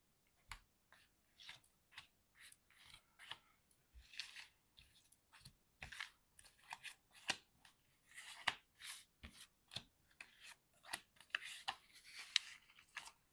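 Tarot cards are shuffled and cut before a card reading, giving a sequence of quiet, crisp slaps and riffling snaps at an irregular rhythm, close by with no talk.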